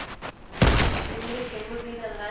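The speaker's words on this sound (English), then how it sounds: "Oh, that guy's shooting." A single loud gunshot cracks in a Fortnite match, followed by a fading echo, with fainter shots just before it and a player talking in the background.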